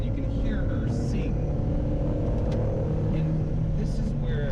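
An Alfa Romeo 4C pushed hard, its engine a continuous low, droning rumble that holds steady while the car accelerates, heard from close by with faint squeaks above it.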